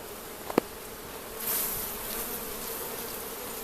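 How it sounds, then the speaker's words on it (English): A soft, steady hum of honey bees buzzing close by as they are shaken down inside an open hive, with a couple of brief clicks early and a slight swell in the drone partway through. "Now I shook all the bees down."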